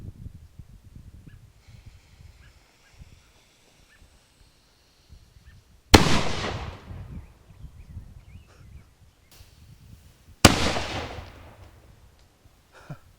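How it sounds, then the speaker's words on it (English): Replica 18th-century howitzer fired twice at a coffee urn outdoors, two sharp, very loud booms several seconds apart, each with a long rolling decay, between quiet stretches with faint wind and distant bird honks. "We gotta shoot a coffee urn."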